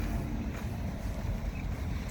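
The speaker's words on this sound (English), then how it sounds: "It's kind of windy today," Wind blusters steadily outdoors where a tent is being laid out flat on the ground, a constant low rumble of gusts buffeting the microphone with no voices.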